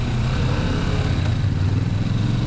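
Steady low engine drone of a Kawasaki Vulcan S motorcycle while riding, a continuous close rumble with wind noise and no talking.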